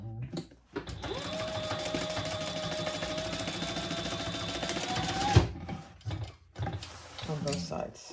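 Sewing machine running steadily for about five seconds, basting lining tabs with a magnetic snap in place on a tote bag, with a steady motor whine, then stopping to brief handling noises.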